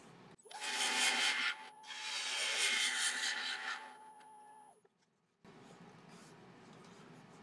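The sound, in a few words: sharp bowl gouge cutting laburnum wood on a lathe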